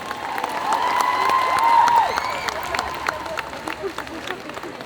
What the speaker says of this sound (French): Tonnerre d'applaudissements pour Lemon et Ina en Rin et Hélène de Vocaloid